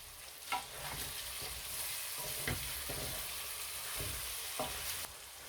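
Aubergine and potato curry with chilies sizzles in a pan, a steady frying hiss broken by several sharp scrapes as a spoon stirs it. No one speaks.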